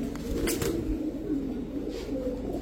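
Bagha grizzle racer pigeons coo softly in a low, continuous murmur over a steady background hum, with a brief brighter flutter near the start.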